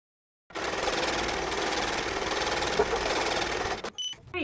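An embroidery machine stitches an in-the-hoop pot holder, a steady rapid mechanical whirring that starts after a short silence and runs continuously for several seconds before stopping abruptly, close and fairly loud.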